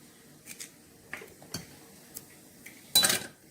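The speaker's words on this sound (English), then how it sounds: "So here I'm breaking the eggs." A few sharp, light taps and cracks of eggshells, spaced apart, ending in a louder wet crack and brief splatter, close by with no talking.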